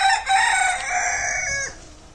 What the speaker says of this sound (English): That's my rooster, right there.